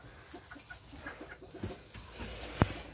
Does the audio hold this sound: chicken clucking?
yes